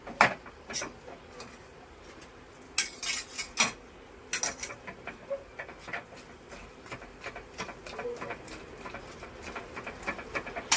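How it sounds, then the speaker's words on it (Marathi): A metal spoon scrapes and clinks against a pan while stirring jaggery until it melts, an irregular rhythm of sharp taps scattered over a quiet background. "आता हे गुळाचं पाणी होईपर्यंत आपल्याला हलवायचं आहे"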